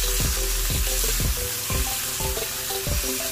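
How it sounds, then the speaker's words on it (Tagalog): Chicken liver and gizzard sautéing in a pan for chopsuey, a loud continuous sizzle close up with a regular rhythm of stirring scrapes and knocks, no talk. "Ang sunod nating ilalagay yung ating atay at balon-balunan. Igisa lang natin yan."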